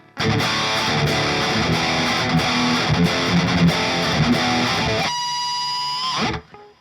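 Distorted electric guitar through an STL Tonality cab sim with an SM57 at the cone center, bright, aggressive chugging riff ending in a ringing held chord that cuts off, no talk.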